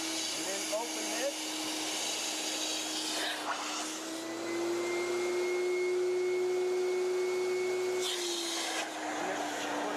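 A Rotovac Ranger vacuum pump runs in a continuous loud drone with a steady whine, briefly shifting pitch as suction changes, with a few clunks and rustles along the way.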